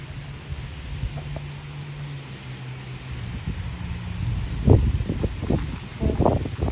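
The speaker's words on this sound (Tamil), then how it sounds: "காற்று சரியாக வீசுது." Wind moves through the leaves of a rainy garden in Montreal, a steady soft breathy rush with rustling bursts that grow louder and more frequent toward the end, with no voices.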